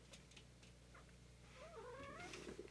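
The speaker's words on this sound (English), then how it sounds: "that's my cat" A house cat nearby gives a faint, drawn-out meow with a wavering, rising and falling pitch toward the end of a quiet stretch, over low background hum.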